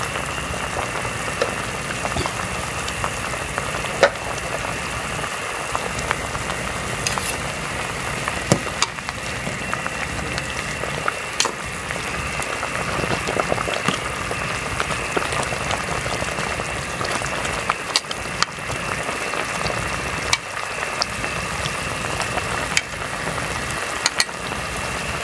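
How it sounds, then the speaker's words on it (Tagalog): Chicken tinola soup boils in a pot, giving a steady, dense bubbling hiss with faint clicks, continuous and fairly loud throughout with no talking. "kumukulo na."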